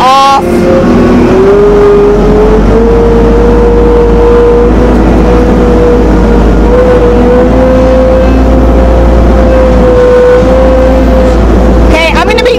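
A FAT Truck amphibious vehicle engine runs loud and steady in low gear on mud, with a sustained drone that holds its pitch, while someone talks over it.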